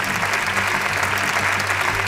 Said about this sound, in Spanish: ¡Más fuerte los aplausos para Diva Houston!